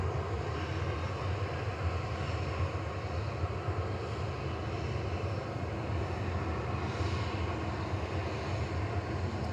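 A TUI Boeing 737-800 positioning to Bristol from Manchester Airport gives a steady, fairly distant engine roar that stays even throughout, with no talk.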